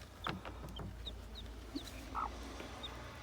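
Hen with chicks making soft, sparse clucks and faint peeping over a quiet hum, a few short calls spread across a few seconds.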